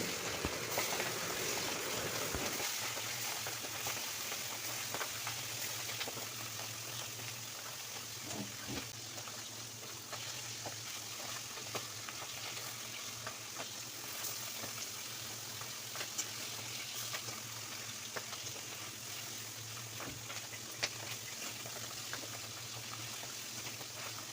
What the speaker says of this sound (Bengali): কড়াইতে তেল দিয়ে মাছগুলো আমি ভালো করে ভেজে নেব।